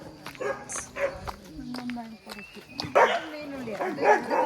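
A dog barks and yips several times at close range, with people talking throughout and footsteps shuffling nearby.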